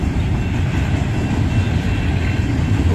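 A Union Pacific freight train rumbles past at close range, a steady, loud, low roar of rolling railcars that holds without a break throughout.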